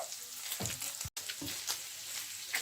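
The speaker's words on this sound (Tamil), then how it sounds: "இப்படி நான் கொஞ்சமான எண்ணெய் விட்டு தான் பொரித்தெடுக்கிறேன்." Paneer frying in a little oil, a crackling sizzle with scattered pops and stirring noises, fairly faint and continuous with a brief dropout partway through.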